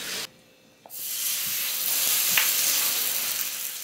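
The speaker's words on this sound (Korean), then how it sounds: "지글지글 전 부치는 소리에 더 군침이 돌지도 모르겠습니다" Jeon, Korean savory pancakes, sizzling in oil in a pan: a steady broadband frying hiss that swells after a brief quiet gap near the start, with a few soft clicks and scrapes, close and continuous.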